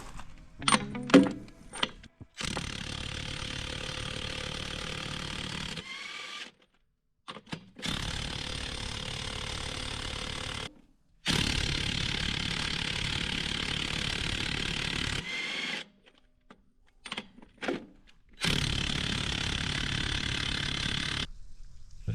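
Electric impact wrench unscrewing wheel nuts while a truck is readied for a trip, heard as several sustained loud whirring bursts of a few seconds each, separated by short pauses and brief clicks.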